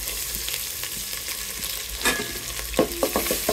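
Chopped ginger dropped into hot oil tempered with cumin seeds sizzles steadily and close, with a brief louder burst and several scraping stirs of the spatula near the end.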